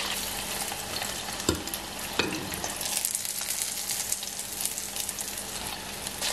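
Vegetarian nuggets fry in hot oil in a home kitchen, a dense steady sizzle and crackle with occasional stirring clinks, close and continuous without talk.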